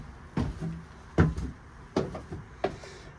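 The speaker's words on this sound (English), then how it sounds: "Here's your companionway door, easily slides to starboard." A companionway door on a 2009 Pursuit 315 Offshore boat slides open toward starboard, giving four distinct knocking thuds spaced about a second apart, close and fairly loud against a quiet background.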